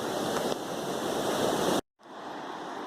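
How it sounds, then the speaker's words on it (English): Small waterfall beside the French Broad River near Hot Springs, a steady dense rush of falling water heard close and loud, cutting off abruptly before returning softer, with no talking. "here's this cool little waterfall"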